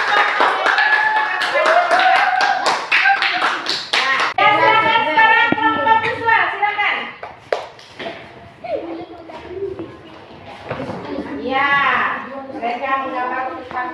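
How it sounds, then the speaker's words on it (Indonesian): A class claps for a student group, rapid dense clapping in the opening seconds. Children's voices then talk and call out loudly over scattered claps. "tepuk tangan untuk kelompok"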